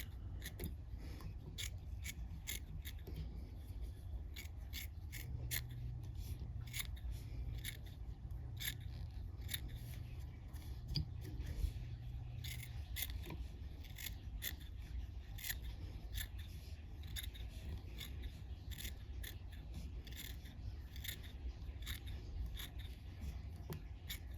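Quiet, repeated snips of curved scissors cutting rabbit fur close by while tying a fly, a steady run of small crisp clicks over a low hum.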